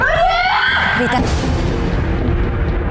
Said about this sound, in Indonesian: jangan teriak-teriak dong